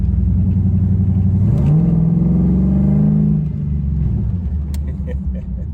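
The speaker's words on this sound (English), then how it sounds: "I'm running the full hooker exhaust, headers, long tube headers all the way back, X-pipe dual exhaust." An LS-swapped Monte Carlo with Hooker long-tube headers and an X-pipe dual exhaust rumbles up through a rev and then settles back, deep and loud from close by.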